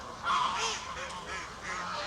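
Geese honking in a village-like park in Legnano, Italy, a couple of nasal honks close by over outdoor ambience.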